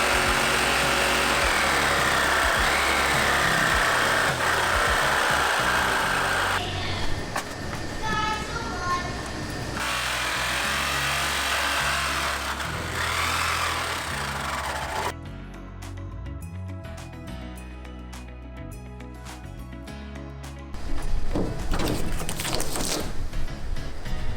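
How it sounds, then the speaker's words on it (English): A jigsaw with a metal blade cuts a window opening in the body of a 144-inch Sprinter van, a loud, harsh, continuous rattling buzz that shifts in pitch and texture as the blade works slowly along the metal. "that's just perfect for a jigsaw. But got a metal blade, and I'll just slowly go all the way around"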